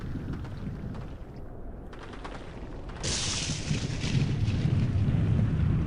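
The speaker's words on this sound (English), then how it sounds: "War cannon." A war cannon firing in the video game Clive Barker's Undying: a rumbling boom that swells into a sustained, roaring blast of noise which grows louder toward the end, with no speech.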